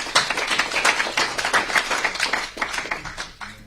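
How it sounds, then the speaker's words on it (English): An indoor audience claps in a dense, steady round of applause at a community gathering, fairly loud and continuous for several seconds before thinning out at the end. "Let's give one another a big round of applause for being here."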